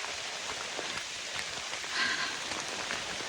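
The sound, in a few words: rain falling on hikers on the Appalachian Trail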